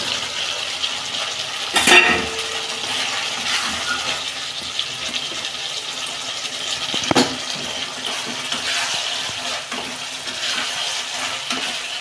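Chicken pakoras hit a pan of hot oil for chilli chicken, giving a steady loud sizzle with bursts of crackle and a couple of sharp splashy surges as pieces go in.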